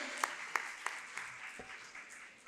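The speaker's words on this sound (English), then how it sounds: "Can we please have a huge round of applause for him?" A school foundation-day audience gives a round of applause for an ex-student script writer, a soft, fading patter of crowd clapping with a few sharp claps close by near the start.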